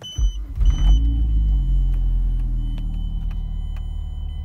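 A car starting up to power an Eonon GA9163K head unit in a Mazda: a brief starter whir, then the engine catches into a steady low idle rumble, close and loud, no speech.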